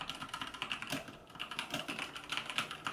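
Fast, steady typing on a Maxtill G610K V2 mechanical keyboard, with crisp clacky keystrokes tumbling over each other, close up and with no voices.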